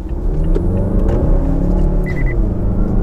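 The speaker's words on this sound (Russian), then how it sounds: "Проверяем динамику 0-100, включаем поворотник," A Mazda CX-9 accelerating hard from a standstill in a 0-100 km/h run, a loud, close, steady engine rumble building with speed, heard alone without talk.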